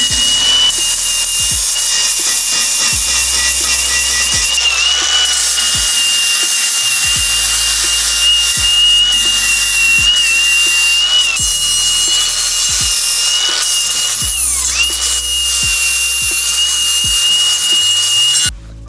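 Welds on a Mustang being cleaned up with a power tool, giving a loud, continuous high whine with a steady grinding rasp that runs unbroken for nearly twenty seconds, close up and with no voices.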